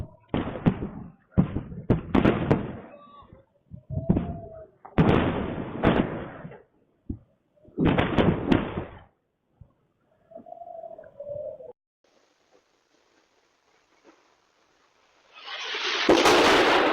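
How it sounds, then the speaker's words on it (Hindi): Iranian missile strikes exploding in Israel, a series of loud, heavy booms and blasts in irregular bursts, with a siren-like tone, faint voices between the blasts and a final roaring rush. "कई जगह इजराइल में, कई जगह ईरान की तमाम मिसाइलें धबाधब धूम धूम धूम।"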